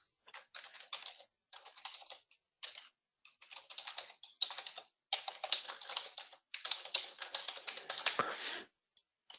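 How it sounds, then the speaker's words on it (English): Typing on a computer keyboard during a software demonstration, with bursts of quick, close keystrokes separated by short pauses and no voice over them. "if I copy this down here, and I just type in"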